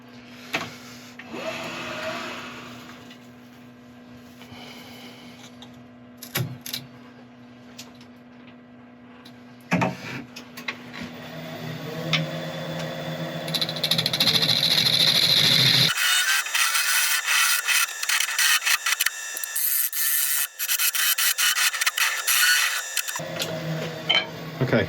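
A woodturning lathe hollows out a wooden piece, giving scraping and rubbing tool noise over a steady motor hum, with louder, harsher cutting bursts in the later part.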